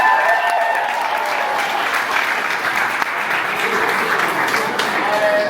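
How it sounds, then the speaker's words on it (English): Steady, loud applause from a crowd of fitness league spectators, dense clapping that fills the whole stretch evenly without pause. "so a round of applause for training design"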